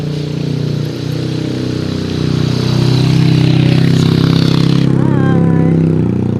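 A motorcycle engine runs steadily nearby as a low, continuous drone that swells slightly louder partway through, with faint background sounds on top.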